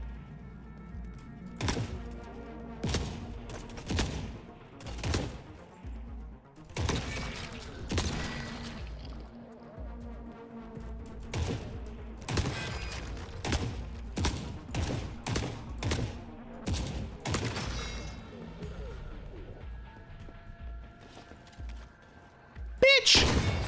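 Bursts of gunfire in The Forever Winter, a game battlefield, crack out in an irregular string of loud shots with a mechanical clatter between them and a heavier blast near the end.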